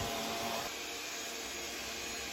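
A eufy S1 Pro robot floor washer vacuums indoors, giving off a steady, even whirring drone with no talk. The motor hum holds constant close by for the whole stretch.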